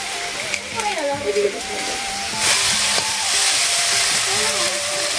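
Chopped bottle gourd drops into hot spice paste with green chillies in a pan, and a loud, steady sizzle follows under a voice that talks over the first half.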